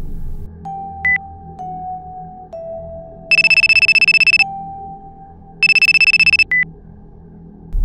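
Minecraft phone ringing in repeated electronic ringtone bursts, two longer trilling rings between short beeping tones, loud and close with no talk.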